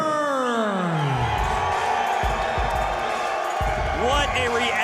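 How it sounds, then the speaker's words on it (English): A loud arena crowd cheers and roars as fighter Lee Burns enters the cage at a Shamrock Ultimate Fight event, with a steady swell of noise under a booming announcer's voice and a rising sweep at the start. "What a reaction from the crowd"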